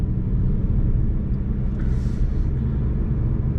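A manual-transmission car's engine hums in a steady low rumble while driving toward a slight hill, with no talking.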